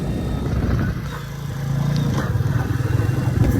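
A Royal Enfield motorcycle engine with a ticking fault idles close by, giving a steady low, uneven rumble with a rapid pulsing beat that grows slightly louder toward the end.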